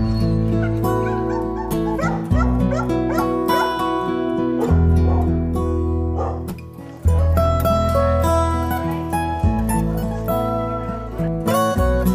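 Several dogs at an animal shelter open day in Soest bark, yip and whimper loudly and continuously, close by, with barks overlapping one another.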